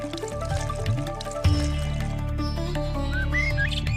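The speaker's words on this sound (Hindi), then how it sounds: "मैं तुम्हारे शरीर पर ठंडा पानी डालती हूँ" Cold water poured from a clay pot, a steady liquid splash and trickle running through the full four seconds beneath a tonal musical background, without speech.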